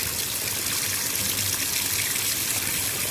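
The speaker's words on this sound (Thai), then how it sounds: "เทน้ำทิ้งนะคะ" Boiling water is poured off cooked instant noodles in a steady, hissing stream for a few seconds, a continuous splashing trickle close by.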